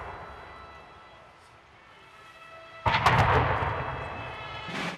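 Ceremonial cannon salute fired at an official welcome ceremony at Ittihadiya Palace, heard as a loud, booming blast about midway that rumbles on, with a second burst rising near the end over faint background ambience.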